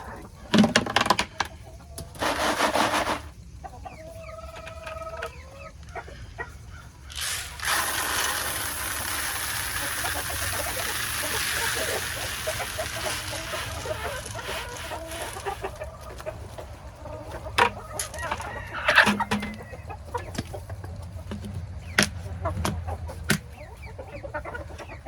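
Farm chickens clucking and squawking in a coop over about twenty-five seconds, repeated calls near and far with clattering and rustling of feed being poured and handled.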